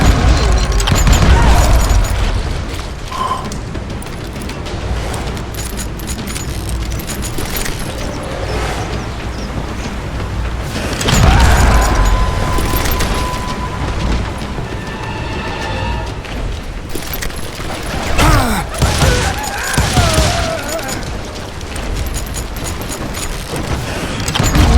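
Gunfire in a Call of Juarez: Gunslinger shootout in rugged winter country, loud repeated booming shots and bursts with crashes over a continuous noisy backdrop, with no voices.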